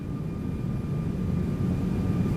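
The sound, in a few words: Airbus A340 engines at reduced thrust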